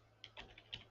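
Faint typing on a computer keyboard during a live stock-trading show, a handful of quick, irregular key clicks over about a second with no talk.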